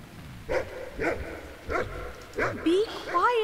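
A dog barks in a cave-exploration video game, four short sharp woofs spaced about half a second apart, followed by a brief whimpering yip, with faint background tones and no talking.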